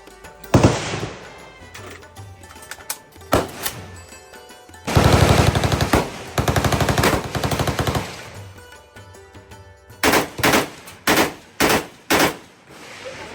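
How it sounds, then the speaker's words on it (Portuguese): AK-47 rifle fire at a Vietnam shooting range, loud close bursts of automatic fire and single shots in irregular groups, with echoing pauses between volleys. "nosso guia Poo nos levou para dar tiros de AK-47"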